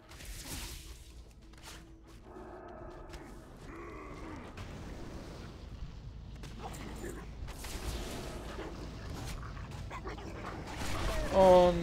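Soft whimpering and yipping from a dog creature in World of Warcraft, with faint creaks and mechanical game effects and a louder burst near the end, under steady talk.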